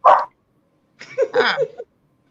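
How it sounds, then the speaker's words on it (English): A cat making dog-like noises: a short bark-like yip, a pause, then a longer wavering whine-bark, close and clear with no other sound around it. "Your cat do dog noises?"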